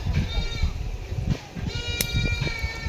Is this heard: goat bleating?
yes